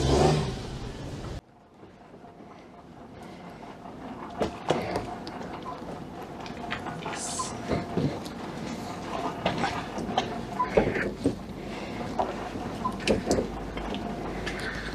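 A Daihatsu Charade with a freshly swapped engine idles and revs nearby, the engine note rising and falling in several bursts over a steady running hum, with faint background noise.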